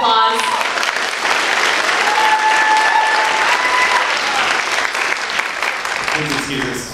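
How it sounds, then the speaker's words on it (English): A crowd at a college speech night applauds loudly and steadily after a speaker's talk on drones, the clapping dense and sustained throughout before tapering at the end, with a few voices and whistles rising over it. "Can we give him another big round of applause?"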